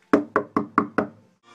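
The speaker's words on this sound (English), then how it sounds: "Where's some wood so I can knock on it?" Five sharp knocks on a wooden surface come in a quick, even rhythm, close and loud, followed by a brief faint noise.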